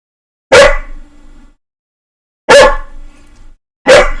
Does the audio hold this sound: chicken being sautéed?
no